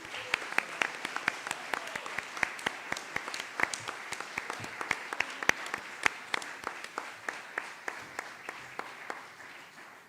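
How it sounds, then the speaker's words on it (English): Audience applause at a digital heritage summit, steady clapping from a medium-sized crowd that holds an even level for about ten seconds, crisp individual claps standing out over the wash of hands. "An applause."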